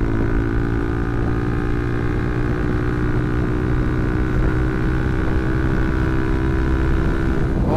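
A motorcycle engine drones steadily at speed with strong wind rush, loud and close throughout.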